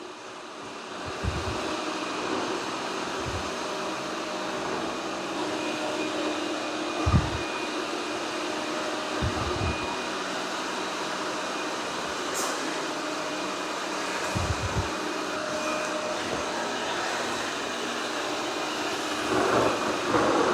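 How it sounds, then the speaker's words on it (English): A Roborock Curv 2 robot vacuum with a dried-out mop roller, a steady motor hum broken by irregular low thumping chatter at scattered moments. "I think that mop roller is getting so dry it's having a hard time turning. That's the chatter."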